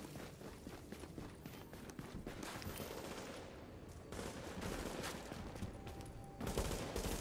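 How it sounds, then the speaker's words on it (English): Gunfire from shooting in the video game The Division, heard as rapid, quiet bursts and volleys of shots that sound fairly distant and continue throughout. "Shooting somebody."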